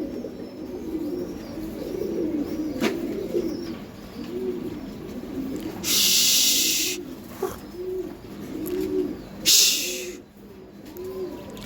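Several Giribaz high flyer racer pigeons, a male and a female pair, coo in repeated soft rounded phrases at close range, with two brief louder hissy bursts in the background partway through.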